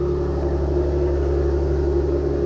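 A car engine idles to warm up, a continuous low, even rumble with a steady hum and no change in pace, close and alone.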